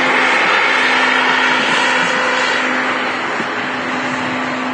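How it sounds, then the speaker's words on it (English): An Embraer E195-E2 jet engine howls close and loud, a steady roaring rush with a sustained whining tone running through it, no voices. "E195 E2 jet. That noise. You can hear the howl."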